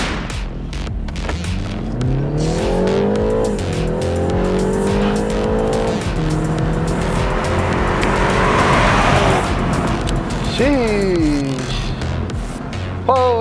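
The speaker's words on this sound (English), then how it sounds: "Gentlemen, start your engine." BMW cars rev hard and launch in a drag race, with loud engines climbing through rising gear pulls and tires squealing. A second rapid rev sweep arrives near the end, all close and intense.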